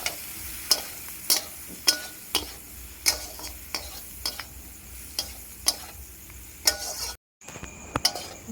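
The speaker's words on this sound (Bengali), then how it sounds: "ভালোভাবে ভেজে নেব।" Food in a pan seasoned with chili powder and salt sizzles quietly and steadily, while a utensil scrapes and clinks against the pan in a regular stirring rhythm, close and alone without talk.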